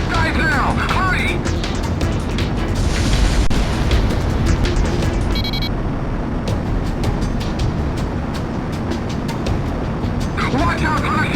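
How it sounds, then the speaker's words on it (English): Shock cannon fire in the Ace Combat X flight game during a standoff with the Gleipnir, a dense sustained roaring rumble with crackling bursts layered over engine noise and effects, loud and continuous throughout. "They're going to fire the shock cannon?"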